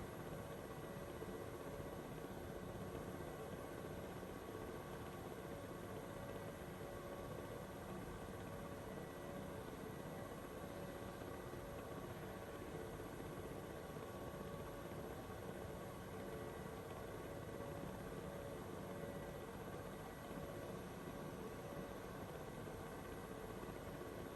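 Steady, unbroken engine drone and rotor noise of a Ka-50 coaxial attack helicopter in a flight simulator game, holding a constant level throughout with no voices.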